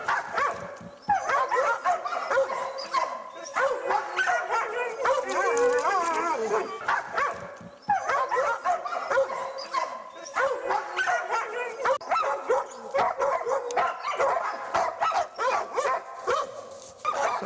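Hunting dogs barking while tracking a sable in the taiga, several dogs giving rapid overlapping barks, yelps and howling whines in near-continuous bursts, loud and close.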